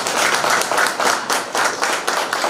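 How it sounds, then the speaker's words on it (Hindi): An audience claps together in a loud, rhythmic pattern of repeated bursts, close and with no talk over it. "ताली मारना चाहिए।"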